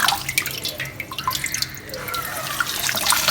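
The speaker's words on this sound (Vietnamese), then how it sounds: "Rồi mình mở cái vòi nước đó" A kitchen tap runs into a sink while mustard greens are rinsed leaf by leaf, giving a close, continuous splash with uneven drips and trickles.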